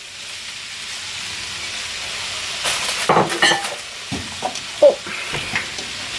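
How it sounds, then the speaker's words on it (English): Kale dropped into a pan of browning chicken mince, a soft steady sizzle with rustling and scraping bursts as the leaves go in and get stirred, and a brief voiced exclamation. "now I'm going to put the kale in"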